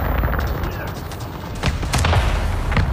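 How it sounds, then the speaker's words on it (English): Dense gunfire and booming explosions from a battle in the video game Avatar: Frontiers of Pandora, loud and continuous with repeated sharp shots layered over a rumbling low end. "Are they shooting stuff strategically?"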